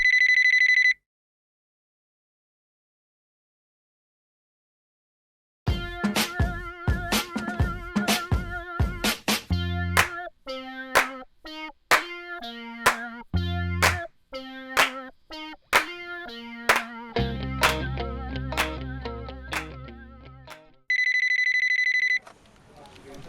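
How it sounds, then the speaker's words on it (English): Telephone ringing after a number is dialed: a short ring tone, a pause, then a busy electronic melody of repeating tones over a thumping beat, ending with another brief ring. "Granny dials the number."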